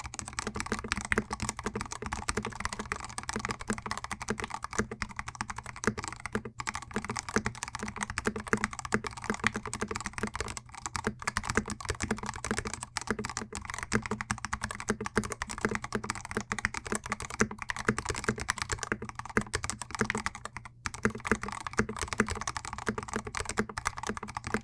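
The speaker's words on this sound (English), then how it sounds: "the switches actually sound really awesome and thocky" Continuous typing on a mechanical keyboard fitted with Everglide Aqua King switches, a dense, steady stream of close, deep, thocky keystrokes that runs without a break, with no talking.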